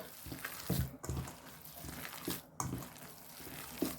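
Onion fries in a pan with a close, steady sizzle, broken by scraping stirs and a few louder crackling bursts.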